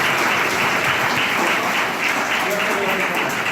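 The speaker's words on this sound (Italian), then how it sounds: "Un applauso Ornella, grazie Ornella." An audience applauds Ornella at an Italian gathering, a dense, sustained wash of clapping from many hands that holds steady and fairly loud for the whole stretch.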